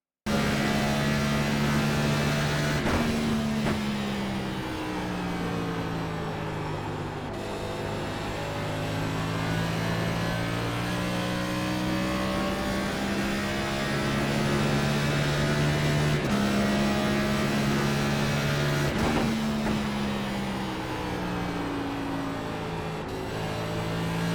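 A simulated Next Gen stock car laps Gateway in iRacing, its engine droning loud and continuous from the cockpit, pitch rising and falling through gear changes and throttle lifts, with no talk.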